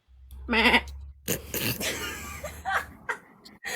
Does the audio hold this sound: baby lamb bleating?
yes